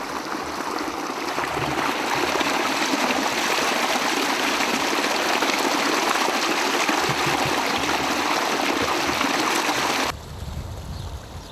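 A small glacier-fed stream in high-altitude Ladakh rushes steadily nearby, a loud broadband wash of flowing water that continues unbroken before dropping off abruptly near the end.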